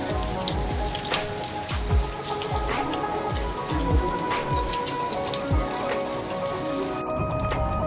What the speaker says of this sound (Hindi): बारिश भी आ गई आज।